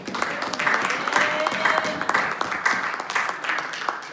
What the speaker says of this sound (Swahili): Nisikie makofi.